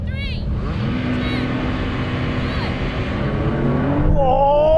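Several Porsche cars launch together off the line in a drag race, engines roaring loud and sustained with rising revs near the end, heavy and close throughout.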